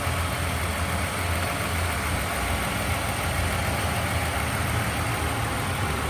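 A car engine idles steadily throughout while an alternator is checked with a Cen-Tech 12V alternator and battery tester, a continuous, even, fairly loud hum with no speech over it.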